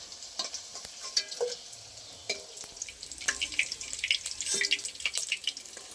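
Paneer fries in a pan with bursts of sizzling and crackling oil, mixed with the scrape of a spatula and irregular clinks, close up and with no talking.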